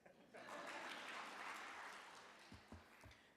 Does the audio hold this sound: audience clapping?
yes